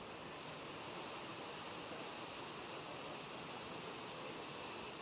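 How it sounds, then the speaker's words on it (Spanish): Waterfalls in Galicia pour in a steady, dense rush of falling water, a continuous broadband roar that stays even and faint throughout with no voices. "Y las cascadas se convierten en fervenzas."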